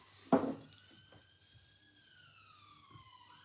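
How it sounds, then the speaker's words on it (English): A police siren wails outside, a faint, steady tone sliding slowly in pitch as the vehicle passes at a distance, after a brief knock at the start. "Hear the siren."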